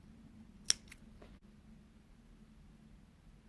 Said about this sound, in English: Cut the thread.